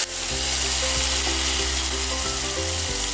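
Tomato gravy and turmeric go into a hot pan for a green chickpea curry, giving a loud, continuous sizzle over a steady humming drone.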